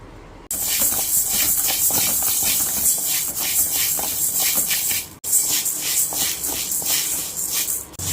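Moong dal (green gram) dry-roasting in a pan for laddu, a close, continuous sizzling shuffle of grains with rhythmic stirring scrapes, broken by one brief pause midway.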